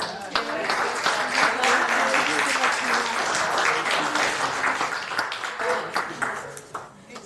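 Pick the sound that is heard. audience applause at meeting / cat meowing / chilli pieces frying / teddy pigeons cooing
audience applause at meeting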